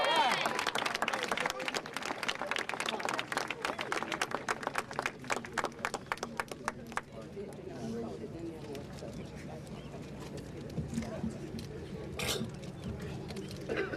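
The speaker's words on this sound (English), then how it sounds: "I'd like you to receive with a warm round of applause" An audience at an NAACP speech event breaks into warm applause: dense, loud clapping for several seconds that then fades into scattered claps and crowd murmur.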